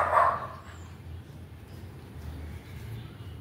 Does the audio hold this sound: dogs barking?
yes